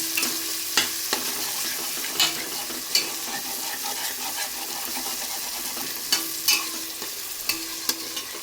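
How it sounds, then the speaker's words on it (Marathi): Peas sautéed in oil with red chili, homemade masala and turmeric, a continuous bright sizzle punctuated by regular spatula scrapes and taps against the pan. "त्यामध्ये लाल मिरची, आपला घरगुती मसाला आणि हळद हे टाकून चांगलं परतून घ्यायचं आहे."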